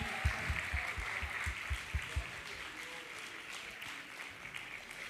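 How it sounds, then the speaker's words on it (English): An audience applauds the men modeling at a men's ministry self-care forum: a steady wash of clapping lasting several seconds with some low thumps mixed in, fairly even throughout. "give it a round of applause for these men"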